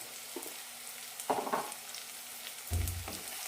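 Ground spices for a cauliflower masala curry sauté in a hot pan with brief bursts of sizzling and frying and a couple of stirring scrapes, close up and moderate in volume.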